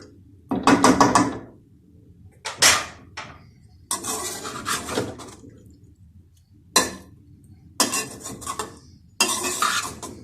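Chicken vegetable fried rice is stirred in a pot in several short bursts, a utensil clanking and scraping against the metal between quiet gaps, close and crisp.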